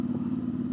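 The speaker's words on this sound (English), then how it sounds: "Oh, the low RPM rumble." New CFMOTO 450MT motorcycle engine idling at low RPM, a brief, steady, close low rumbling hum with no speech.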